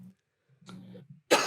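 A few short, harsh coughs from one person, starting with soft low throat sounds and ending in a loud, breathy burst, close to the mic.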